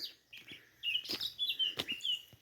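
Small birds chirp and sing close by outdoors in a rural field, a run of bright quick tweets and trills with a few sharp clicks, loud and clear with no talking.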